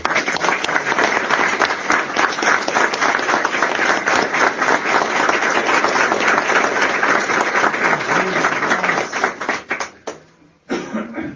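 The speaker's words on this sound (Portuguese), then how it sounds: "As palmas a Ial." Church congregation applauding during a Feast of Tabernacles service, a dense sustained wall of clapping that carries on for several seconds before tapering off near the end.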